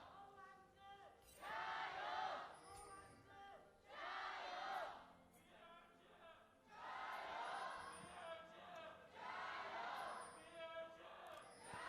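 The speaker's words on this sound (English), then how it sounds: "The most deflated chant I have ever heard." A crowd at an LPL esports match in Chengdu chants in weak, strained bursts, several rising-and-falling group calls with pauses between, as commentators talk quietly beneath.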